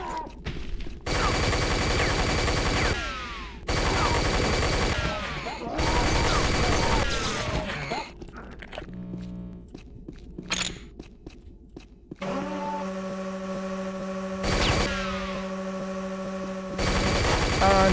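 Minigun fire in a video game, dense rapid bursts of automatic shots in several long loud stretches, with a whirring spin-up and a steady electronic hum between volleys.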